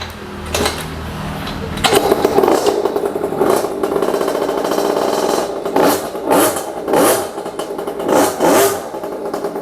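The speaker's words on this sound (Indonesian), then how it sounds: "Suaranya mirip-mirip dengan special engine karena memang 2 tak." A 50cc two-stroke mini trail motorcycle is kick-started, then revved repeatedly in close, loud bursts, its engine rising and falling in a buzzing, rhythmic pattern.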